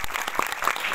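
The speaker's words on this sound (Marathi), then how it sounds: "एकदा टाळ्या वाजवायचं" An audience claps at a Marathi religious discourse, a brief burst of many hands clapping together in quick, uneven patter.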